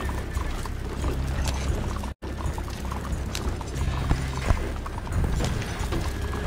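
A horse-drawn carriage, steady hoof clip-clops in an even rhythm with rattling wheels and mechanical creaks, moderately close and continuous apart from a brief dropout.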